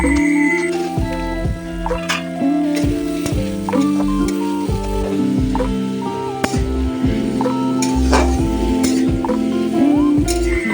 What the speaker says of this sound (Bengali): ভালো করে মশলা কষিয়ে নেওয়ার পর ভেজে রাখা সয়াবিন, আলু দিয়ে দিলাম।